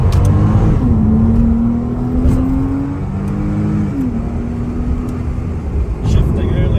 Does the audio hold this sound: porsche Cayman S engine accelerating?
yes